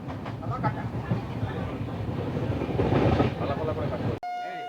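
Passenger train running on a rail route near Falakata and New Cooch Behar, a steady rolling rumble with some clatter heard from inside, ending in an abrupt cut.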